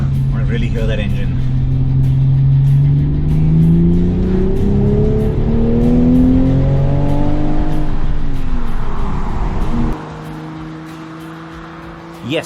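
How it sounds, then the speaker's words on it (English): A sports car engine revs hard, pitch climbing through gear pulls before easing off and dropping to a quieter idle near the end. "I want to really hear that engine."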